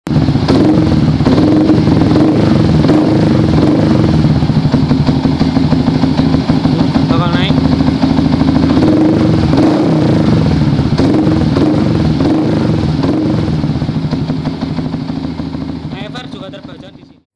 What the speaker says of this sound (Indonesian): Kalau kalian gas juga bakal naik RPM.